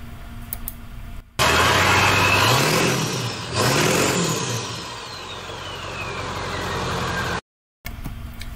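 A Ford Bronco's 7.3 Powerstroke diesel engine roars to life for the first time and revs with its exhaust fitted, a rising and falling turbo whistle riding over the loud, throaty idle.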